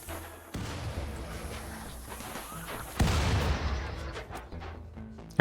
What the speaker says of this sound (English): thankfully those explosions will help us a bit